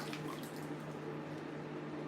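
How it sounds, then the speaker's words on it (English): Hot, steaming water pours steadily into a bowl with a continuous, even splash and trickle, moderately close and heard alone without talking. "I'm going to just pour my water into the bowl"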